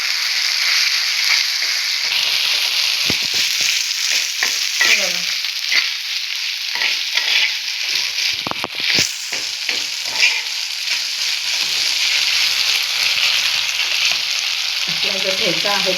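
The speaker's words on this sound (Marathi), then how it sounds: "बारीक गॅसवर आता आपण मस्त असं तळून घेऊया." Thecha sizzles and fries on a low gas flame, a loud continuous crackling hiss with bursts of stirring and scraping in the pan throughout, no talking.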